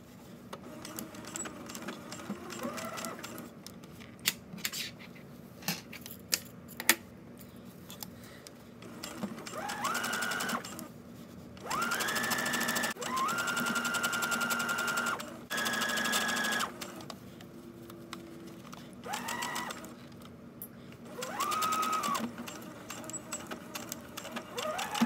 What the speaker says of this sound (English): just sew at the standard seam allowance all around the neckline, all through the zipper, all the way through the other end